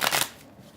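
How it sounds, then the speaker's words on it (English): A deck of Shining Tribe tarot cards is riffle-shuffled in one quick, crisp burst of fluttering card noise that fades into quiet. "Let's see how these shuffle."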